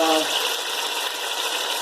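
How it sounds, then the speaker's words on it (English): Hot water poured into a pot over braised pig's feet: a steady, close splashing pour that starts a little louder and settles into an even stream, with no talking. "I'm just going to add in some hot water"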